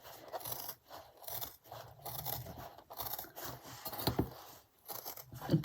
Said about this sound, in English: Leather isn't easy to cut.